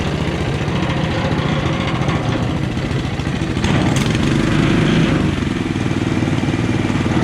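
A Honda GC190 engine powers a motorized wheelbarrow on a heap, a close, rattly, chugging mid-pitched drone that swells under load around the middle and then settles, with no talking.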